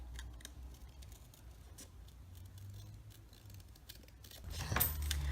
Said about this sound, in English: Just bring in your scissors and trim around and cut off the excess.